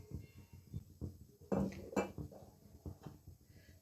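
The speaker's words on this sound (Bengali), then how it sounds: "পাশের চুল্লিতে জলটা গরম করতে বসিয়ে দিয়ে এবারে আমি কড়াইটা বসালাম" A metal wok is set down on a gas stove burner in a home kitchen while pulao and chicken curry are being made, giving a few close metallic knocks and clatters, the loudest around the middle.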